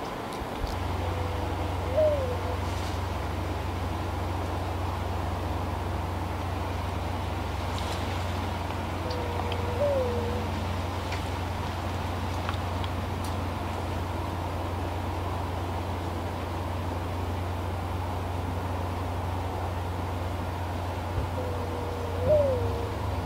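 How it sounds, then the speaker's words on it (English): A dove calls softly in the distance on a windy day, three short cooing calls spaced several seconds apart over a steady low rumble of wind and faint background noise. "Now you can hear a dove calling over there,"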